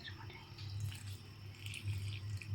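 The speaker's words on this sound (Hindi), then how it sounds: "आधा कप अभी हमने पानी शामिल किया।" Water is poured into gram flour batter for phulki, giving a soft trickling and dripping close by, quiet and continuous with slight swells.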